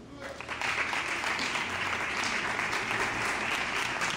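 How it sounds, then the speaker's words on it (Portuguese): A church congregation claps in praise during a worship service, steady dense applause rising after half a second and continuing loud and sustained throughout. "Pode se assentar exaltando o Senhor com palmas."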